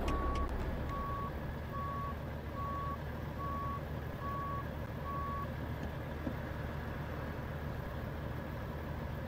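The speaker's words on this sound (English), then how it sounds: "So let's go ahead and clear the truck and turn it on." A heavy truck in the American Truck Simulator game runs with a steady low engine rumble, while a series of evenly spaced electronic beeps sounds over it for the first half, with no talking.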